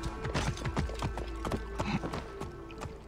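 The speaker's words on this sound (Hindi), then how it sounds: "चलो घोड़े को बुलाते हैं, वो जरा हमें वहां तक लेके जाएगा।" Hooves of a horse clip-clop steadily in Assassin's Creed Origins, a quick regular patter of sharp hoof strikes over a low background hum, with faint game ambience and no talk.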